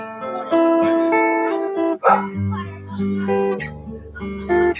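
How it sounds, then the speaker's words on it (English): A dog gives short yips and barks indoors at a community gathering, mixed with tonal whining sounds and people talking nearby. "Why are you barking at her?"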